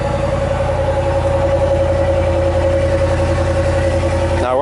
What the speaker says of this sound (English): let's hear what the exhaust sounds like